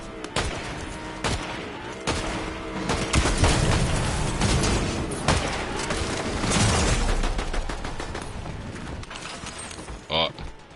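Rapid video-game gunfire rattles in dense, loud bursts of shots over about ten seconds, with brief gaps and a sharper blast near the end, close and continuous.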